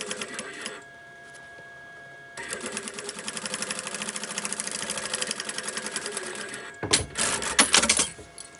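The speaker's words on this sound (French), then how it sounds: "Et vous emmenez la couture jusqu'au bout." A sewing machine runs a seam on a quilted backpack, a steady mechanical whir for several seconds after a brief earlier run, ending in louder clattering handling noises.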